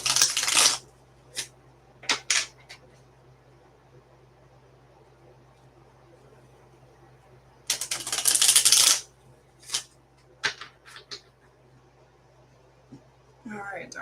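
A tarot deck is shuffled in quick bursts of riffling card noise, one longer shuffle in the middle and several short snaps and taps between, close by in a quiet room with a faint hum.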